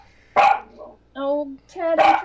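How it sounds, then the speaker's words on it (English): A dog barks in two loud, close bursts separated by a pause, with a short whimpering whine between them; no one talks. "I don't even know why he's hiding while he's doing his barking."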